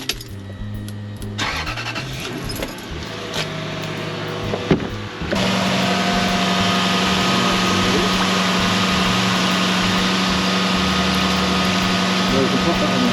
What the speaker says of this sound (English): we're going to start the engine, and we're going to let that run up to temperature